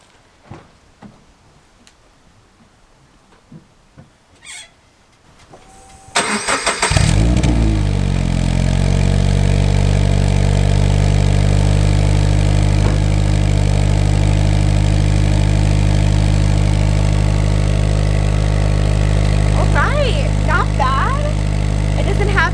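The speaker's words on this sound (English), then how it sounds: "it is time to hear how the exhaust sounds" Quiet clicks and handling noises, then a Toyota 86 engine fires up and settles into a loud, deep, rumbling idle through a throaty aftermarket CSG Touring exhaust with occasional revs.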